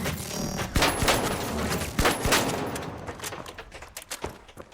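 Rapid bursts of gunfire from the shooter game The Finals crackle loudly and close, in dense clusters that thin out toward the end.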